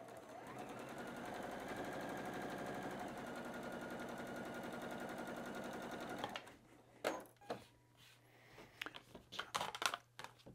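A sewing machine stitches quilt pieces in one fast, steady mechanical run of about six seconds, then stops, followed by rustling fabric and several soft handling clicks and thumps.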